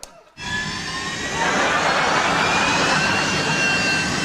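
A bathroom extractor fan, switched on with the light, gives a loud, steady, jet-like roar that starts abruptly after a brief quiet and swells slightly before holding constant.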